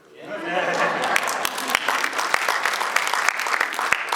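Debate audience applauding a speaker's remark about Israel, a dense, steady wash of clapping that swells in quickly and holds loud to the end.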